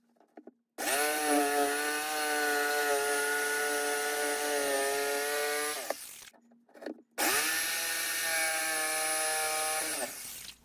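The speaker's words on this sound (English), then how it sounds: "Holes were punched with jigsaw" Jigsaw cutting holes in a workshop vacuum cabinet: a loud, close, high whining buzz runs for about five seconds, cuts out briefly, then starts again for another stretch, alone without speech.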